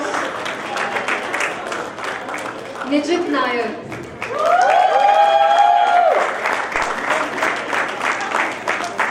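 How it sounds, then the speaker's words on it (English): A convocation audience at a leadership school applauds graduates, steady dense clapping throughout, with a voice announcing names over it and a melodic tone swelling briefly in the middle. "A big round of applause."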